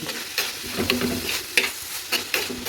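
Spinach thoran with green chillies cooks in a pan as it is stirred, rhythmic scraping strokes recurring roughly every half second over a steady close sizzle, with no voices.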